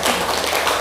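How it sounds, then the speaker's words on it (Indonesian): Students clap together in a classroom, a brief, dense burst of applause that fills the room at close range. "Nah, beri tepuk tangan."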